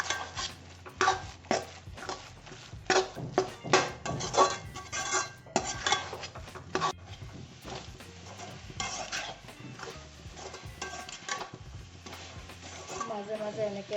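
Grated coconut frying in a kadai for coconut ladoo is stirred with a metal spatula, giving repeated scraping and clinking strokes against the pan under a faint sizzle, loud and close, with a brief voice near the end.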